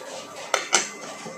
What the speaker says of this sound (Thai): ไข่ลงไป พอก็เอาฝาปิดค่ะ